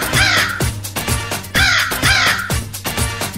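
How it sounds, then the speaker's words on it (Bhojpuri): Crow caws within a Bhojpuri Raksha Bandhan song, loud repeated harsh calls roughly every second set against the music's beat, prominent and close. "मोर राखी कौआ ले गइल थाली में से टांग के"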